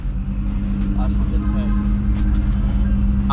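A 1000hp Audi R8 in race mode gives a loud, steady engine drone with a strong low rumble from inside the car, with brief voices over it.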